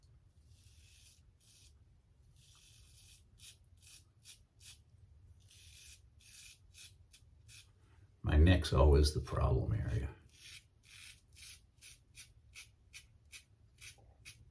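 Philips OneBlade Hybrid fitted with a Feather blade shaving a beard, a steady series of short close scraping rasps along the skin, faint and rhythmic, with someone speaking briefly in the middle.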